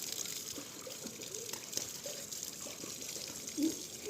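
Water pouring and splashing while a dog is bathed, a soft continuous trickle and slosh with a brief louder splash near the end.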